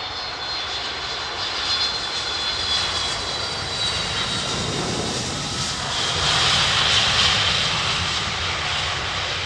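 A Boeing 757 with Rolls-Royce engines roars steadily and loudly nearby, a continuous broadband jet rush that swells slightly toward the end with no speech.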